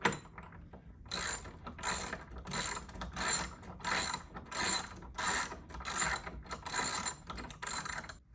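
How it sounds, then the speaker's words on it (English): Ratcheting socket wrench backing out the leg bolts of a Teenage Mutant Ninja Turtles pinball machine with a 5/8 deep well socket, in bursts of rapid clicking that start and stop several times, close up and with no voices. "I'm going to take these leg bolts out now"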